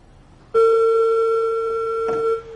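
A synthesizer sounds a single pure sustained note that starts abruptly, holds steady and loud for about two seconds, then cuts off.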